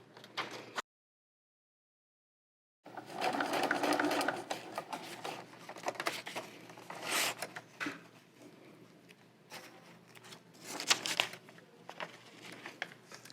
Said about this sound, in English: See you at the sewing machine.